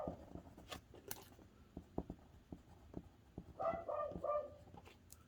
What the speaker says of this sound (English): Once again, sorry about the dogs.